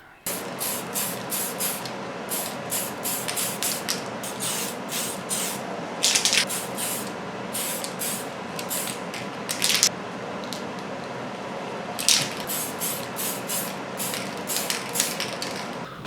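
Black spray paint applied to an Axial SCX10 Trail Honcho RC car body in a snowy, cold setting, heard as repeated short hissing aerosol bursts at close range with brief pauses between them.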